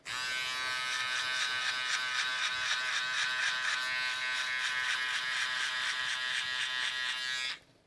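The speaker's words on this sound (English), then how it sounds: "I'm gonna go ahead and angle out my clipper so that way I get the shortness of the blade" An electric hair clipper buzzes close and loud while shaving a mid drop fade, a steady high whirring hum held for several seconds with a faint pulsing flutter before it cuts off abruptly at the end.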